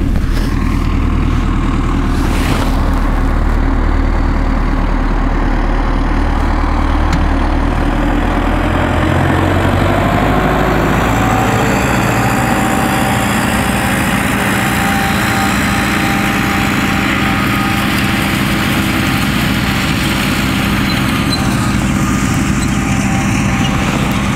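A tractor engine runs loudly and continuously while fertilizing winter wheat, its low drone shifting in pitch partway through as the load changes.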